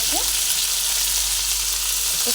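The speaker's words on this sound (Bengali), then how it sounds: "প্রথমেই ফুলকপিগুলোকে তেলের মধ্যে দিয়ে ভেজে নেব" Cauliflower florets frying in hot oil after fish has been fried, giving a steady, loud close-up sizzle with a faint utensil scrape or two, no voices.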